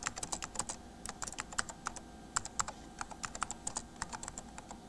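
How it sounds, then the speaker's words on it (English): Typing on a computer keyboard in a quiet room, a steady run of sharp, close key clicks in irregular bursts with brief pauses, no voices. "just by typing on the keyboard"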